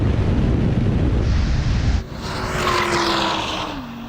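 A Porsche Cayenne Turbo GT SUV and an Audi R8 supercar drag racing, a loud roaring engine blast that drops abruptly into a rising whine and rushing wind as the cars speed away.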